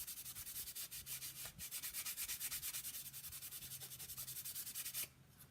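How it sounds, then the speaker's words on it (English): Wax being buffed with a clean, soft cloth, likely an old washed t-shirt: a steady, close, rhythmic rubbing swish of quick strokes running continuously, then stopping abruptly near the end. "So you could just buff them."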